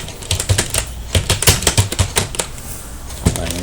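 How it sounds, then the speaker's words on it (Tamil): Fast, uneven typing on a computer keyboard, close and crisp, with clustered keystrokes and a few brief pauses. "அடுத்தது என்ட்ரு அடிச்சுட்டு டைப் பண்ண ஆரம்பிக்கிறேன்."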